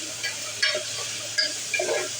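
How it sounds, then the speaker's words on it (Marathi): Ginger-garlic paste frying in a pressure cooker, a soft steady sizzle with a few brief scraping stirs of a spoon against the metal, heard close and alone. "आणि हे आलं लसूण पेस्ट टाकून घेऊया आणि चांगलं परतून घेऊया"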